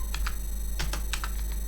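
Quick bursts of keystrokes on a computer keyboard clack in small uneven clusters over a constant low electrical hum, with no talking.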